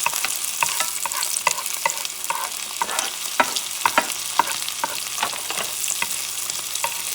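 Bell peppers sizzle in a pan for a Puerto Rican sofrito, a steady hiss of frying broken by repeated scraping strokes of a spoon stirring through them, close and moderately loud with no talking.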